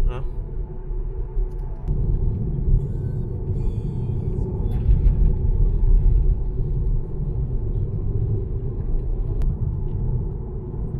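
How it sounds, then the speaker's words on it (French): A steady low rumble of a car engine and tires rolling nearby on a narrow road at the Baie de Somme, continuous throughout with a slight swell in the middle. "Donc, 2 voitures se croisent, c'est bon."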